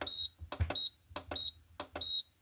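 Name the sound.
Xiaomi Ocooker rice cooker button beeps while setting the timer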